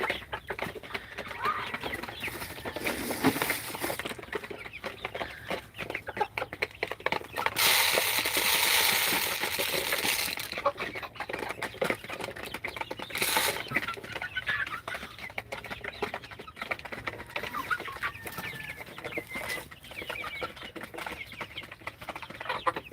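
Two-month-old farm chickens clucking and cheeping in a coop, scattered calls with bursts of wing flapping and rustling, moderately close.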